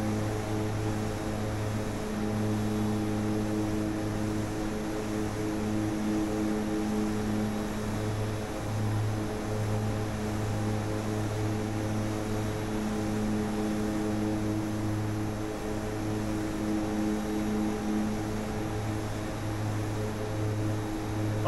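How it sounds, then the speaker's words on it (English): An Aerosoft Twin Otter, a twin-propeller aircraft in the FSX flight simulator, drones steadily and loudly, with a constant engine hum and a tonal propeller buzz holding unbroken throughout. "the twin otter that I'm flying at the moment from Aerosoft"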